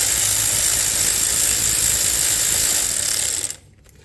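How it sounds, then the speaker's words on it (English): A wrench loosens a 12 mm brake line bolt on a Toyota Camry during rear strut work, giving a steady close mechanical ratcheting and grinding that runs for about three seconds before cutting off. "use a wrench to loosen this bolt up"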